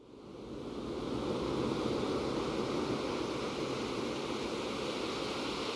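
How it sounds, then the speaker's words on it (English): Steady ocean surf with waves washing continuously, played back as an ambient sound effect inside an app; broadband and even throughout after a brief fade-in, with no voices. "Here's the ocean sound playing in our app."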